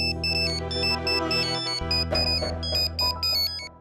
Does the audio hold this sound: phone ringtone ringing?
yes